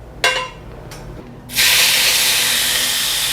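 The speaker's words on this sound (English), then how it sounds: "That's the sizzle you should hear." After a couple of quiet clinks, a loud, steady sizzle bursts up and keeps hissing strongly, like oil hitting a hot pan.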